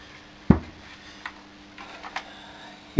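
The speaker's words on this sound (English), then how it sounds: "push it until you hear it click." Plastic cone seal on a Dyson DC08 vacuum radix assembly snapping into place, heard as a few sharp, close clicks spaced across a quiet background, loudest at the start and end.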